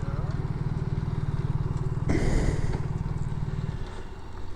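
A BMW demo motorcycle idles close by with a steady, throbbing engine rumble, briefly swelling in a short rev before settling back. The sound carries faint background noise of a dealership demo day.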